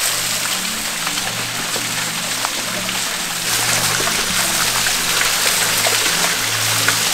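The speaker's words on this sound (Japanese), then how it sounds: "ここは源氏の滝です。" The Genji waterfall in Japan gives off a steady, continuous rush of falling water, with a low rumble running underneath.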